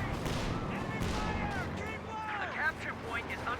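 Tank gunfire and artillery in the strategy game Company of Heroes 2, a dense, rumbling barrage of booms with chirping high tones over a steady low roar, loud throughout.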